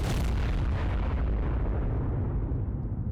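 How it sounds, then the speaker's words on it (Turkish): A loud, continuous roar of explosions with rumbling bursts that slowly fade, game-like and close, with no talking; bombs in the modded survival game ARK. "Şu etrafa biraz bomba atayım da etraf bir temizlensin."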